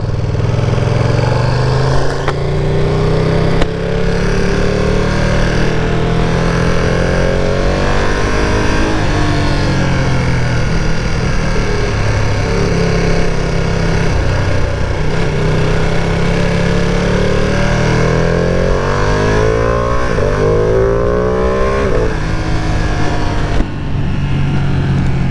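A 2020 Ducati Panigale V2 sport bike with a 155-horsepower engine, loud and close throughout, revving and accelerating through rising and falling pitch sweeps with brief gear-change dips, steady roaring drone with no voices.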